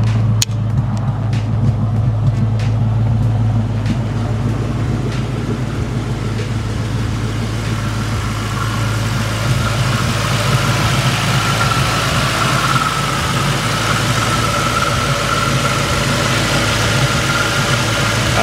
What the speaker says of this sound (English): Sputtering from the exhaust, but that's just until it warms up.